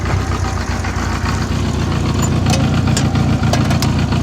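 A 1984 Honda Goldwing motorcycle engine idles close by, a loud, steady low rumble with an even throb throughout and a few faint ticks on top, no talking.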